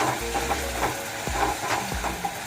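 A spoon stirs red chilli powder into a fish masala curry in a pan, scraping and clicking in an irregular rhythm over a soft continuous sizzle, close and alone.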